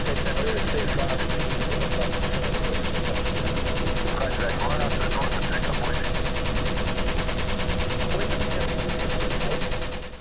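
An M60 machine gun fires 7.62 rounds in sustained, rapid automatic bursts, a loud and dense wall of gunfire in a Vietnam War battle setting, with faint background voices beneath the shooting.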